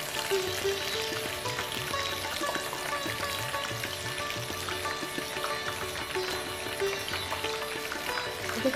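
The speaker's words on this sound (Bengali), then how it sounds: "এটা মিডিয়াম আঁচে ভাজতে হবে, না তো পাতাগুলো পট করে পুড়ে যাবে" Batter-coated pumpkin leaves fry in oil over medium heat with a continuous, dense bubbling sizzle, steady and close throughout.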